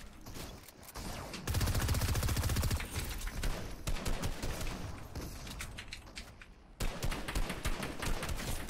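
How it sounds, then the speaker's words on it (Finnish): Rapid machine-gun bursts from an MG in a video game, loud and close, with dense strings of shots and brief pauses between bursts. "Tässä MG ampuu ihan sikatiukkaa."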